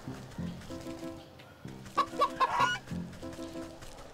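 A goose in the crafting adventure game Wytchwood gives a short burst of honking, three or four quick squawks in the middle of the clip over soft looping game music.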